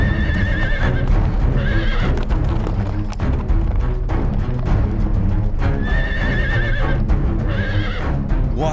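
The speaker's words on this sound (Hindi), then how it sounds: "घोड़ा?" A horse whinnies loudly twice in long shrill neighs, with hooves clip-clopping in a brisk rhythm throughout, close and prominent.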